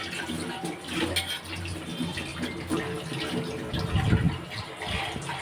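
Plates and bowls being washed under a running kitchen sink tap, water splashing and pouring with dull knocks of dishware, close and continuous, no one talking.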